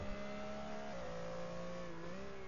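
Steady engine drone of a Porsche 906 race car lapping the Nordschleife in GT-Legends, held at a fairly even pitch with slight dips as the revs shift, no talk over it.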